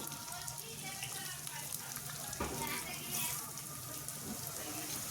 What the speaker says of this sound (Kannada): ಮತ್ತು ಈರುಳ್ಳಿ ಹಾಕೋತಾ ಇದ್ದೀನಿ ನೋಡಿ